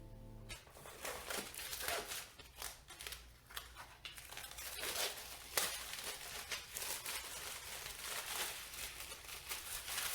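Close crinkling and tearing of plastic wrapping being pulled off a painting canvas, a busy run of crackles and rustles lasting throughout without speech.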